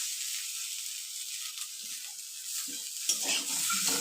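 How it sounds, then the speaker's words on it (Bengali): Fried masala hisses softly in a pan as fried potato and bitter gourd are tipped in, with a few scraping stirs and a brief louder burst of sizzling near the end. "মশলাটা ফ্রাই হয়ে গেছে, এতে আমি অ্যাড করব ভেজে রাখা পটেটো আর করলা"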